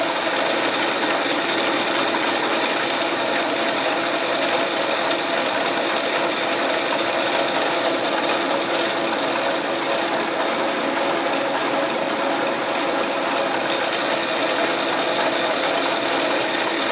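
A metal lathe turns and cuts a thread, giving a continuous, even mechanical whir with a thin whine running through it, steady throughout with no talk.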